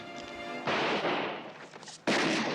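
Film gunfire from the 1974 western comedy Blazing Saddles: a loud shot bursts out after a quiet musical moment, followed by a second sharp, close blast near the end.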